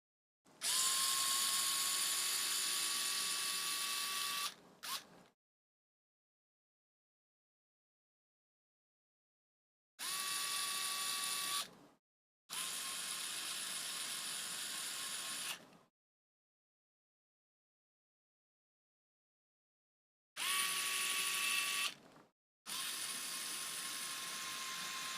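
Power driver running screws into a Casadio Unimog model kit: three separate bursts of steady high-pitched motor whine, each with a brief pause mid-run, separated by silence, close and clear with no talking.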